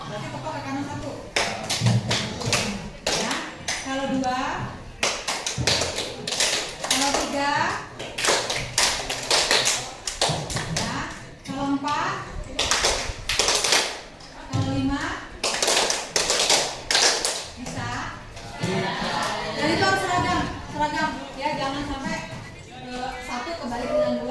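Students in a classroom economics lesson clap their hands together in bursts of sharp, rhythmic claps, close and fairly loud, with a teacher's and children's voices talking over and between them.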